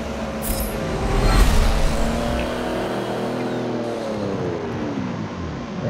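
Race cars in the Forza Motorsport 7 video game sweep past during a rolling start, a loud layered engine roar swelling and then trailing off with doppler-like pitch shifts and no talk.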